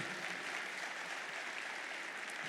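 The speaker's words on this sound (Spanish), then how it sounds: "Denle un aplauso al Señor" Dense applause from a church congregation, steady and sustained throughout, with no voices.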